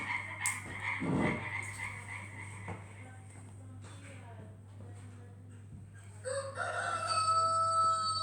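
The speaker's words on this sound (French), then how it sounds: "C'est le coq." A rooster crows near the end, rising and drawn out, after a stretch of quieter animal noises and a low steady hum.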